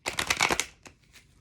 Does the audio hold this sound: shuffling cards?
yes